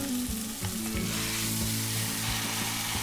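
Marinated beef hitting a pan of fried chopped tomato for a Goan green coriander beef curry, giving a loud, steady sizzle with soft clatter as it settles, no voices.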